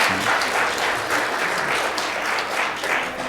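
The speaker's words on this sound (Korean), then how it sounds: "우리 다시 한번 인사하시고 박수로 격려하겠습니다." Brief, even applause from a church congregation at a Christmas Sunday service, a close, full wash of clapping lasting about three seconds with no talk over it.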